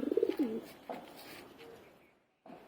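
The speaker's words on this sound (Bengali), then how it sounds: "গুবরা চোখের পায়রা, সাদা চোখের নয়, গুবরা চোখের মাদি" A black-green female pigeon cooing close by, a few low throaty coos at the start followed by quieter rustling and a short pause.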